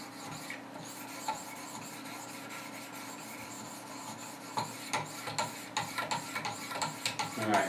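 Spyderco Paramilitary knife blade stroked against 800 grit stones on a Wicked Edge sharpener, a steady raspy scraping that turns into faster, louder rhythmic strokes toward the end, close up with no talking.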